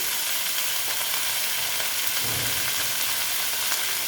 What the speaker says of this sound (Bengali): এটাকে আমি ভালো মতন ভেজে নেব